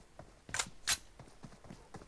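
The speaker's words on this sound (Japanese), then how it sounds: "なんか今足音聞こえたよね" Footsteps in the battle-royale game PUBG, a run of soft, irregular thuds with two sharper, louder impacts early on, heard fairly close against quiet game ambience.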